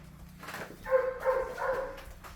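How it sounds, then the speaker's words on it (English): A dog barks several times at some distance in a home, three short muffled barks in a row over a low background hum. "forgive my barking dog"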